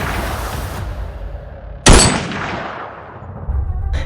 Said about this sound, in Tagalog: nang makarinig sila ng dalawang sunod na putok mula sa di kalayuan